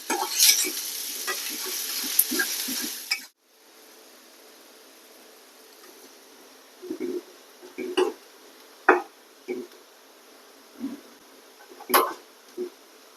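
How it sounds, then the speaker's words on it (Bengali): Onions frying in oil and being stirred until brown for potato bharta, a loud sizzle and scraping at first, then the heat cuts out, leaving quiet with intermittent clatter and stirring knocks. "এখানে আলু ভর্তার জন্য বাদামি কালার পেঁয়াজ করবো।"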